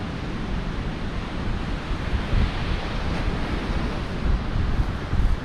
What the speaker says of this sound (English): That's because wind's right into my face.